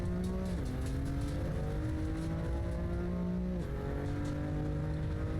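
A racing video game car engine drones loud and steady, its pitch dropping sharply twice as it downshifts, down to second gear, then climbing again, with no voices.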